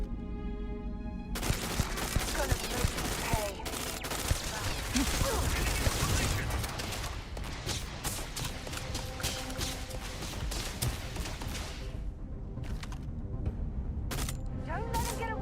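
Gunfire in the video game Starfield aimed at a turret, dense rapid bursts of shots and impacts running throughout amid game action, with talk over it.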